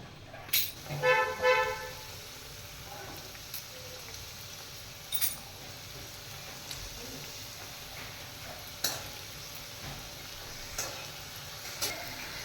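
Karanji pastries, four or five at a time, fry in hot oil with a faint continuous sizzle, broken by a few clinks and stirring sounds near the start and occasional light knocks, with a car horn honking in the background.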